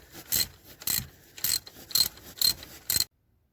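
A ratchet tightens a bolt on a 2007 Honda Odyssey serpentine belt tensioner, giving six evenly spaced bursts of close, crisp clicking about half a second apart before falling silent.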